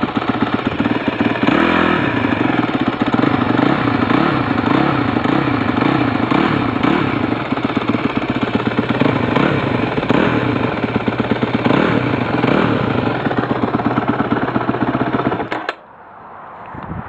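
A cold 2009 Honda CRF250X dirt bike engine idles loud and close with a steady, slightly uneven putter and clatter, alone for about fifteen seconds before cutting off abruptly near the end.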